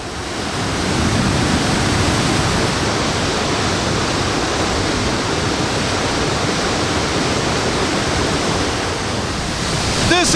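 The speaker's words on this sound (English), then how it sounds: "You can see the sheer power of water cascading down this river." A hidden waterfall on Nongkhnum Island pours steadily down a river, making a loud, unbroken broadband roar of rushing water that barely changes throughout.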